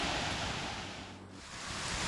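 A waterfall near a quiet, shady campsite roars as a dense, steady wash of rushing water, fairly close, briefly dipping before swelling again, with no voices.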